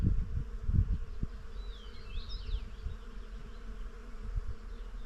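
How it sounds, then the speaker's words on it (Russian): Bees hum steadily around a blooming apple tree in a village, a continuous low buzz of many insects heard close by, with a few nearer passes rising and falling. "Послушайте, какой гул пчел стоит."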